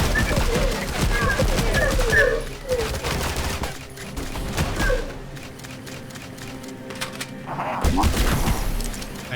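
A pulse shotgun fires in the video game ADACA, in rapid heavy blasts that cluster together, then fall quiet and return as a final burst, loud and close with some voice mixed in.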